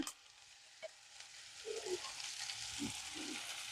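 Ivy gourd (dondakaya) frying in a pan for a stir-fry with green peas, a faint, low sizzle with a few soft knocks and scrapes of stirring.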